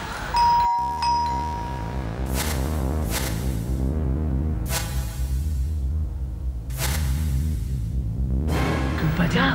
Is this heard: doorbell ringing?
yes